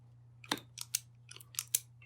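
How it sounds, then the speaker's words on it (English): Several sharp snips from cutters clipping off an odd wire connector inside a Wagner paint sprayer, five or six crisp bursts spaced unevenly over two seconds over a steady low electrical hum. "some kind of weird connector there. Let's cut it off."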